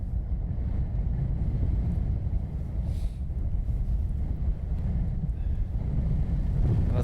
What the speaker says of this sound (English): as I say that, the wind picks up again